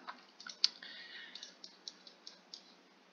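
Quiet mouse clicks placing waypoints in OpenTTD, a short run of light, evenly spaced ticks with one sharper click near the start and faint game sounds underneath.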